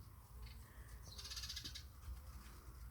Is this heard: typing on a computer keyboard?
no